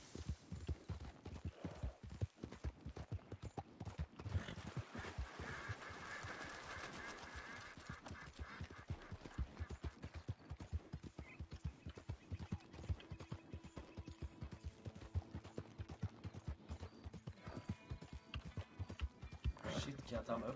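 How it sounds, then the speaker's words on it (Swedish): Rapid, steady clip-clop of horse hooves at a gallop in the video game Red Dead Redemption 2, fairly close and continuous, with a brief whinny-like tone near the middle. "hoppar över med hästen"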